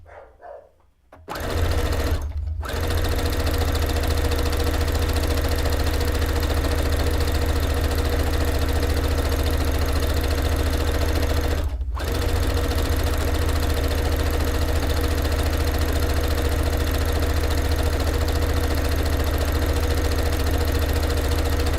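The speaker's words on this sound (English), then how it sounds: "Bruno is scared by the sewing machine noise" A sewing machine stitching straight seams on a cape/dress project runs in a loud, steady continuous whir after a brief start, with a couple of short pauses and faint background noise.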